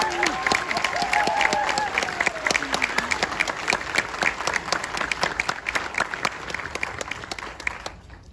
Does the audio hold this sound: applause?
yes